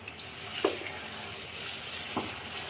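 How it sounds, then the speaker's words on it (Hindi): Chicken being fried in ghee and oil in the pot used earlier for frying okra gives a steady, fairly faint sizzle, with two brief louder spits or stirs standing out above it. "अब मैं अपना चिकन जो है ना वो इसी ऑयल में ही घी में डालूंगी, इसी बर्तन में जिसमें मैंने भिंडियों को फ्राई किया है।"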